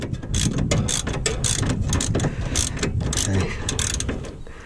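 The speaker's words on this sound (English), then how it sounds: "let's tighten up the trunnion bolts" A ratchet clicks rapidly and steadily up close as it tightens the trunnion bolts on an Armstrong lever arm shock absorber on an MGB GT.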